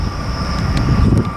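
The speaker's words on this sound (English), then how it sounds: "That 180 really sounds like it's struggling." A Class 180 diesel train departs at Grantham on the East Coast Main Line, its engine labouring with a steady low rumble and a faint high whine throughout a short stretch.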